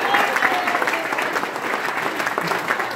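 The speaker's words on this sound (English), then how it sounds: "Y'all give him a round of applause for being a good sport." An audience at a live comedy show applauds in a steady, dense wash of clapping that lasts throughout, with a few faint voices mixed in.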